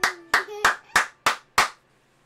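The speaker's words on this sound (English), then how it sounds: "clap your hands" Six slow, evenly spaced hand claps ring out close and crisp during a livestream giveaway, each with a short decay, followed by quiet.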